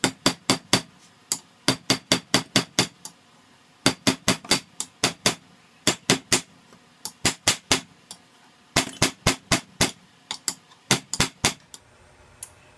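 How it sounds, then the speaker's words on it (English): A red-hot wrench is struck on an anvil at a home forge in quick bursts of ringing metallic blows, several strikes per group with short pauses between groups, loud and close. "I'm just gonna throw that wrench on there. Give it a couple of whacks, see how it works out. Red hot wrench."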